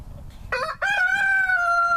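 A backyard rooster, one of two kept with a hen, lets out a single loud, close crow that rises and then holds a long drawn-out tone, with no other sound around it.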